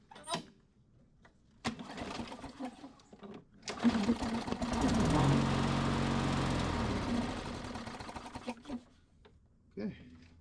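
A Black Max push lawn mower, model MNA152905, cranks with a few short pulls, then its small engine catches and runs in a loud, steady drone for several seconds before cutting out, followed by faint clicks.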